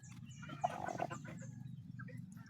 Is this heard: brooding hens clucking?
yes